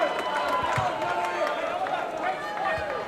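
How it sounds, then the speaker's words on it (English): Cheering and shouting from Rangitoto College supporters at a school volleyball match against Tauranga Boys' College, steady loud crowd noise in an indoor hall with a commentator talking over it. "A lot of noise from our Rangitoto and our crowd"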